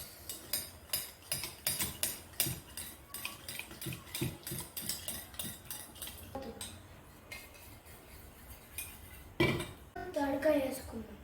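Beetroot salad is tossed in a bowl with a utensil, making repeated clinks and scrapes of metal against dish in a quick rhythm, then a pause before a few louder knocks near the end.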